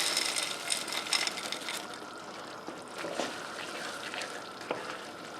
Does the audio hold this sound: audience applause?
no